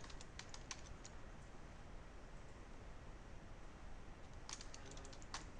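A password being typed on a computer keyboard while restoring a Fortinet 60D firewall: a few quick, faint key clicks at the start and another burst near the end, over a soft hiss.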